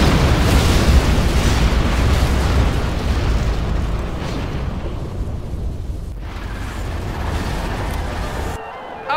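Nuclear missile explosions in the video game Command & Conquer Generals Zero Hour: loud, continuous rumbling explosions roar and boom for several seconds, then cut off abruptly near the end.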